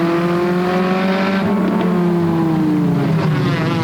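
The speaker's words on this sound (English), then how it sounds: "The field rumbles down into turns 1 and 2." Pure stock race cars at Flamboro Speedway rumbling as a field into turns 1 and 2, a loud, continuous engine drone with slowly shifting pitch as several cars run together, with no voices.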